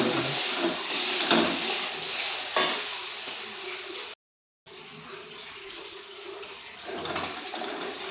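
Water poured into a pan of potatoes frying with spices on a home stove, giving a steady close sizzle and bubbling hiss, briefly cut off, then resuming at a similar level.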